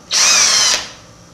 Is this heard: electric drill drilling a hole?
yes